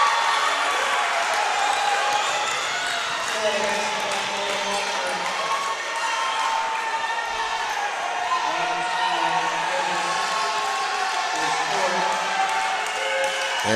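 A packed gym crowd at a men's college basketball game roars and claps after a dunk. The cheering is loud and steady for the whole stretch, with a rough wash of voices and applause.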